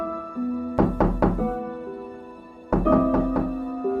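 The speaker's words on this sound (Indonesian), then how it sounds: "Kali ini ketukan pintu lebih keras." Someone knocks hard on a wooden door at night: a quick burst of three loud raps, a pause, then a second set of three equally forceful knocks, close and with nothing else heard.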